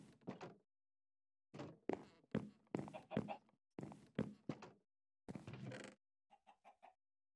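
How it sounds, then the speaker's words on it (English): Minecraft chickens cluck in short bursts separated by pauses, a few sharp clucks at a time, then a quick run of tiny clicking pops at the end; loud, synthetic, and with no talking. "One of my chickens is acting strange."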